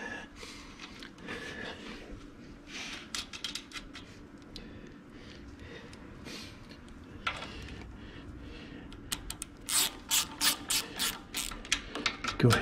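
Nuts being tightened with a ratchet on a Craftsman snow blower that won't start: quiet rapid clicking through the first half, then a louder run of sharp, evenly spaced ratchet bursts close by near the end.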